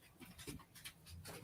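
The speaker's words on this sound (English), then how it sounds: "Pardon my dog barking." A pet dog panting and whimpering softly indoors in a room, a short breathy burst of quick rhythmic pants, faint and close, with no talk over it.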